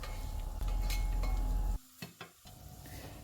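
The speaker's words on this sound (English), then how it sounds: "put the onions in it and stir it until it goes a bit softer or caramelized" Onions stirred and sautéed in a pan until soft and caramelized, a steady sizzle that drops away partway through, then returns more faintly, with a few clinks and scrapes of stirring.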